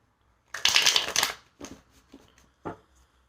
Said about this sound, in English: shuffle a little bit more, see what's going on